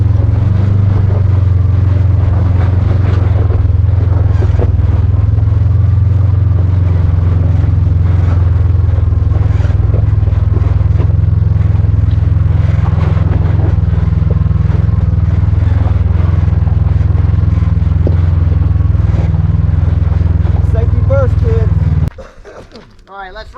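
Honda Pioneer and Kawasaki KRX side-by-sides driving off-road on an Arizona trail, a loud steady engine drone with rattling and clatter that holds for over twenty seconds, then drops away near the end, with voices under it.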